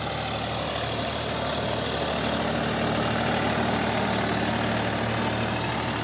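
A tractor engine runs steadily during a potato harvest, a dense, unbroken rumbling drone that stays at an even loudness throughout, with no voices.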